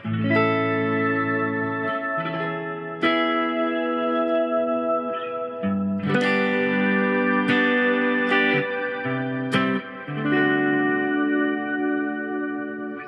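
Electric guitar played through an Oceans 11 reverb pedal on a shimmer setting, a run of sustained chords and single notes washing into long, bright, octave-shimmering tails, steady and close with no talking.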